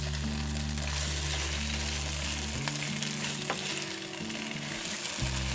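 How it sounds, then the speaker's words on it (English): Eggplant frying in hot oil for a Philippine home lunch, a loud, steady crackling sizzle that runs close and unbroken throughout, with a low hum beneath it and no talking. "got hit by hot oil. Listen to that sound."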